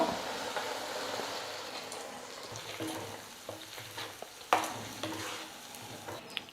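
Steady sizzling of chutney being stirred in a hot pan with scraping stirs and a few sharp clinks of a utensil against metal, close and continuous.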